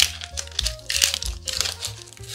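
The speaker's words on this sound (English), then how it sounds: "So I'm gonna get to dicing this onion." Finely dicing an onion with a knife for a 1950s meatloaf: a steady run of close, crisp chopping taps and crunchy cuts, loud and alone.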